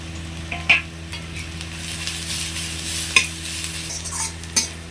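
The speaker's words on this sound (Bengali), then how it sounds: "পেঁয়াজ রসুন ভালোভাবে ভেজে নিয়েছি।" Onions and garlic paste frying in a pan, a continuous close sizzle under a low steady hum, punctuated by three sharp clinks of a utensil scraping and stirring at irregular intervals.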